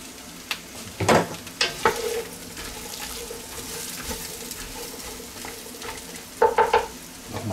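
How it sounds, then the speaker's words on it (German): Vegetables braise and brown in a Dutch oven, a soft steady sizzle broken by a few sharp clattering stirs and scrapes of a utensil against the pot, close and without speech. "Jetzt kommt das ganze Gemüse rein. Wird auch noch mal einmal angeschmorgelt."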